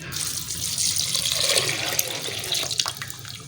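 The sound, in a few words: water being poured into a cooking pot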